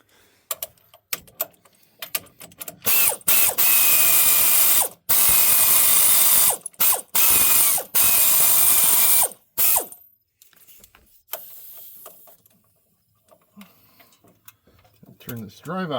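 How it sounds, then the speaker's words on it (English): A ratchet wrench tightens the wheel hub on a Cummins 6.7 truck during a hub and brake job, giving loud, close, rapid clicking bursts in several runs separated by short pauses, with quieter handling noises afterward. "I will torque these up off camera"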